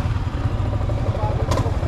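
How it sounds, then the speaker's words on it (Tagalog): A Honda Winner X 150 motorcycle engine runs close by with a steady, chugging mid-pitched idle, alone and without talk. "Ang motor niya ay Honda Winner X"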